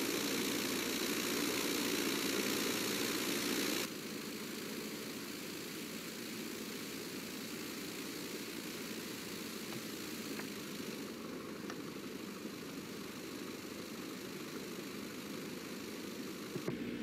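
A Piper Cub's engine idles in the FSX flight simulator, a steady propeller drone that is louder for the first few seconds, then settles into a lower, even hum to the end.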